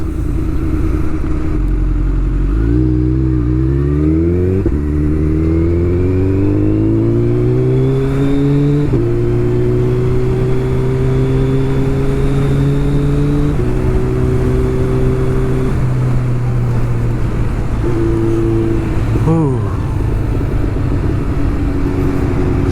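Superbike ridden at night through the streets of Kosba, South Kolkata, its engine climbing through several gear changes in stepped rising pitches, loud and close with steady wind noise and no talking.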